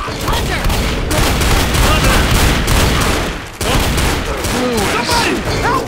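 Heavy gunfire in Left 4 Dead, dense overlapping bursts of shots, loud and chaotic, with a short break midway before the firing resumes, while voices shout over it.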